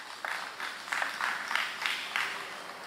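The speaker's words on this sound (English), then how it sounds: "Let's give Calvary Baptist a round of applause, please." Applause for the Calvary Baptist school team at a secondary schools spelling bee: a soft, fairly distant patter of clapping from a small crowd, rising and falling in short waves.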